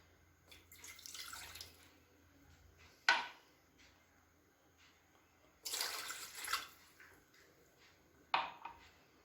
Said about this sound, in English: Take a vessel, add 2 cups of water.